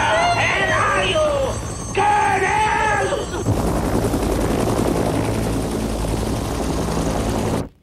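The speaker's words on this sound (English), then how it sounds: "Where did the helicopters come from?" Helicopters fly overhead in a 1988 Philippine historical film, their loud rotor roar and engine drone filling the scene while voices shout over it.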